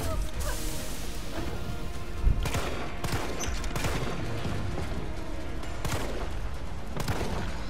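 Resident Evil 3 gunshots, fired at Nemesis by the sound of it, come as sharp repeated blasts with one heavy boom over a dense, steady wash of game noise.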